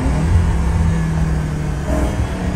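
A V8 car engine rumbles close by, a deep steady growl that swells briefly as it revs.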